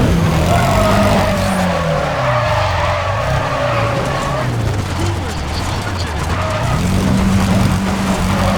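A race car in the video game NFS ProStreet roars loudly, its engine pitch rising and falling through gear changes while tires skid and squeal in a sustained screech.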